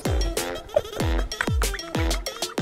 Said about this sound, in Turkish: Oo hakikaten dağ keçisi bu.